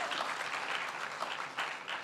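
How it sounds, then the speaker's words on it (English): Audience applause, a quiet, somewhat distant wash of clapping from a crowd, steady throughout with slight surges. "You can clap if you want to"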